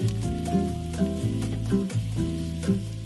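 Flour-dusted beef stew meat seasoned with salt and pepper sizzles in olive oil with softened onions, a close, steady frying hiss with rhythmic stirring pulses about every half second.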